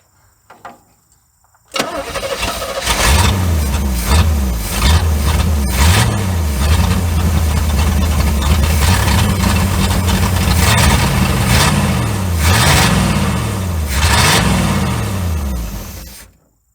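A 1972 Chevrolet C30 truck, abandoned on a farm for years, cranks and catches, then its engine runs loud and rough for about fifteen seconds with uneven revving surges before cutting off abruptly.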